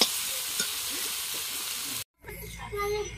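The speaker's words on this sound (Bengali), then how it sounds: "এখন ফোড়নে দিয়ে দিলাম তেজপাতা, দিয়ে দেবো পেঁয়াজ কুচানো" Bay leaf and chopped onion crackle in hot oil for a fish curry, a loud steady sizzle that cuts out briefly, then returns softer with stirring and faint clatter.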